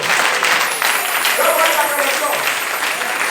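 Church congregation applauding and cheering during a French-language service, with a continuous wash of clapping and raised voices throughout.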